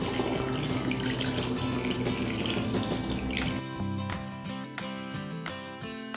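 Water from a measuring cup poured through a funnel into a spray bottle, a continuous close trickling splash that thins out toward the end.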